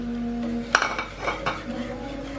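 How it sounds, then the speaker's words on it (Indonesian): A spoon scrapes and clinks against a pan while a sugar mixture for an Oreo cheesecake dessert box is stirred by hand, with a few sharp metallic taps over a low steady hum. "Aduk terus sampai larut"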